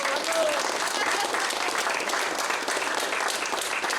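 An audience at a tribute event applauds, a full, continuous round of clapping heard throughout at a moderate level with some crowd murmur mixed in.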